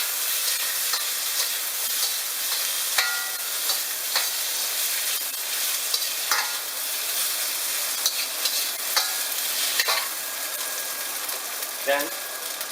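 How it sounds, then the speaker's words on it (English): Minced garlic and ginger stirred in a hot pan, a continuous oily sizzle and hiss with intermittent scraping clicks of a utensil, fairly close and steady throughout. "A rounded teaspoon of the minced garlic and ginger mixture. I'm going to stir that up."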